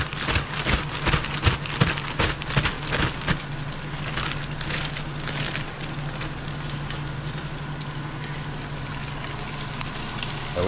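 Thin coated crappie fillets fry fast in hot oil, a dense rain-like crackle that is loudest and most popping in the first few seconds, then settles into a steady hiss with no talking.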